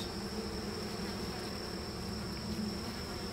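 Honey bees buzz steadily inside an open horizontal hive during an inspection, a dense, continuous drone close by with no talk over it.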